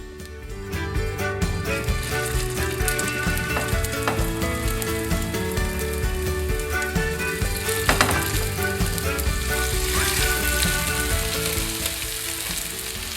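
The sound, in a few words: chicken rissoles frying in a pan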